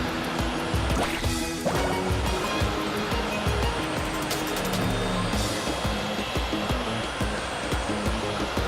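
Rushing water and surf churning continuously in the video game Genshin Impact, a loud steady splashing roar like riding over waves, with faint electronic tones in the mix.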